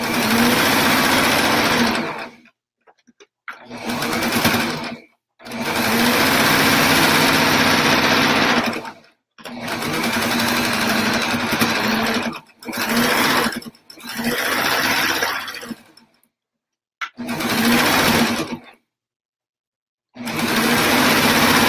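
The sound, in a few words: sewing machine stitching rag quilt pieces together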